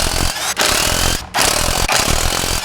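A power tool with a 7/8 deep socket spins lug nuts off a Chevrolet Silverado wheel in loud, close rattling bursts broken by short pauses.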